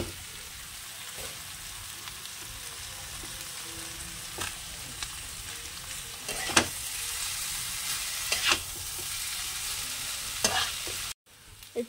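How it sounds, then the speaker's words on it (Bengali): Chow mein noodles stir-fry in a hot pan with a steady, close sizzle, broken by several sharp scraping strokes of a spatula against the metal; no one speaks. "এবার এর মধ্যে চাউটা দিয়ে দেবো।"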